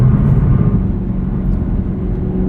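A muscle car engine, either a 2023 Camaro SS 1LE or a 2024 Ford Mustang GT, drones under mid-range load as a deep, steady rumble heard from inside the car with no talking.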